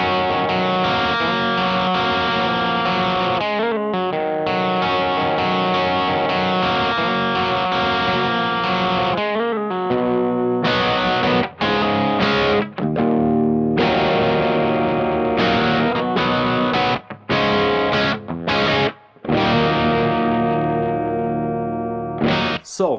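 A Stanford CR Marquee electric guitar played through heavy distortion rings out in sustained chords, then breaks into choppy, stop-start strummed bursts. It is loud and close, with effects coloring the tone and no talking.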